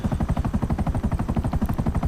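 A GTA Online helicopter with retractable wheels, its rotor thumping in a steady fast pulse, loud and close, with no talking.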